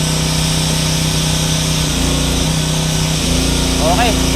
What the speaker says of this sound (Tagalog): Tingnan natin kung gagana naman yung welding machine.